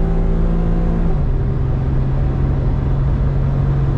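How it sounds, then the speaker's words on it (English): A Honda Z kei car engine hums steadily and climbs in pitch as it accelerates, loud and close throughout with a continuous droning note. "now I get the engine note behind me."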